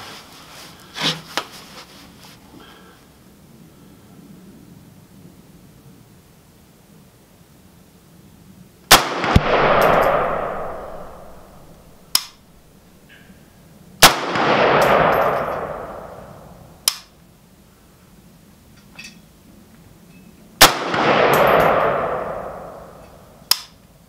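A Yugo M70ab2 AK-47 rifle fires at a target outdoors, with sharp single shots and three loud cracks, each followed by a long rolling echo, spaced several seconds apart.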